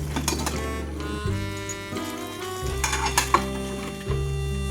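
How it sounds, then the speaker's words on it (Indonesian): Breakfast dishes and drinking glasses being washed in a kitchen sink, with repeated clinks and clatters of plates and utensils over a steady tonal background and no speech. "Nah ini aku cuci-cuci dulu, ini bekas sarapan, ada juga bekas gelas"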